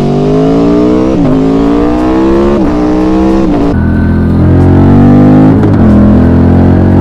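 A motorcycle engine captured by a microphone tucked in a bag, loud and close, revving up through repeated gear changes with rising, falling harmonic tones and no talking.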